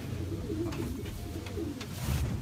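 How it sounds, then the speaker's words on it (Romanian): Racing pigeons coo in low, soft murmuring phrases that run continuously through the clip, close by, with a few faint higher chirps on top and no speech. "Ăștia sunt mari, sunt altfel de porumbei."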